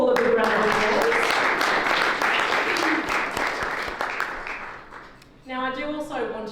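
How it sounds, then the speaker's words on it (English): Audience applause fills a Brisbane Lord Mayoral reception for several seconds and then dies down, after which a speaker resumes talking. "can we please give Paul a big round of applause"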